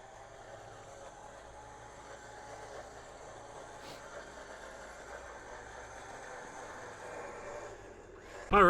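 Off-road vehicle engine labouring through snow on Chinaman Gulch, a steady low idle-like drone that holds throughout at moderate distance, ending in a louder sudden burst near the close.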